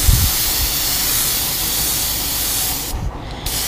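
An airbrush sprays paint onto a fishing lure, giving a steady, loud, close hiss that carries on almost unbroken, with a short dip near the end.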